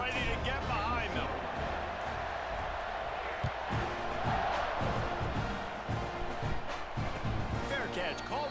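Stadium crowd noise swells at kickoff in EA Sports College Football 26, a steady dense roar of cheering fans throughout with game commentary and talk over it.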